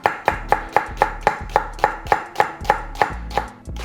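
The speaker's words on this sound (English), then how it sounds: "and just cutting them into thin slices" A knife slices an onion laid flat side down into thin slices on a cutting board, about fifteen crisp evenly spaced chops, close and loud, no voices.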